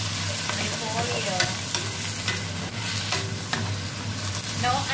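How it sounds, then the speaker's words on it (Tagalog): Cabbage stir-fried in a pan, seasoned only with salt, sizzles loudly and steadily up close while a utensil repeatedly scrapes and stirs, and no one talks. "Ganito lang po ako kasimple magluto ng repolyo"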